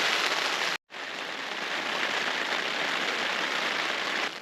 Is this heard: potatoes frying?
no